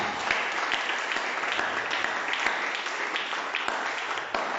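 A church congregation applauds loudly and continuously, a dense, even wash of clapping from many hands filling the room without pause, with no clear talk.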